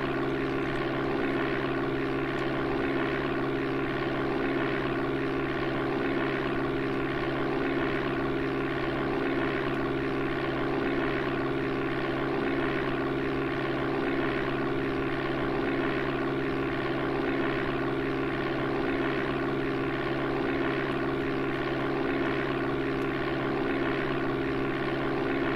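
A propeller airplane engine drones loudly and steadily at takeoff power in the Amiga game Flight Simulator II, a constant buzzing hum with unchanging pitch and no voices.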